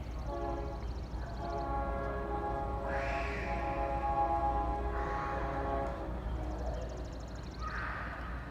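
A northbound freight train at Winder, Georgia rolls past with a heavy, steady rumble while its horn blasts in several long, loud sustained tones.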